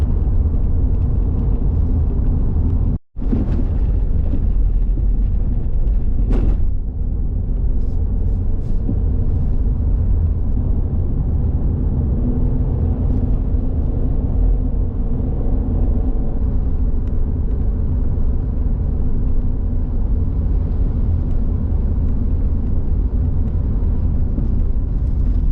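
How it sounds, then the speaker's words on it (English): A car cruising along the Alpine Way through the Snowy Mountains in Kosciuszko National Park, heard from inside: a steady low rumble of engine and road noise with a brief dropout near the start and a few faint clicks, no talking. "we are going to hop in the car and drive Alpine Way through the Snowy Mountains, Kosciuszko National Park"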